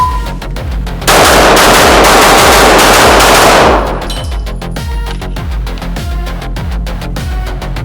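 A Rost Martin RM1C pistol fires a rapid string of sharp, loud shots at close range, a burst of quick cracks followed by more spaced single reports echoing on a shooting range.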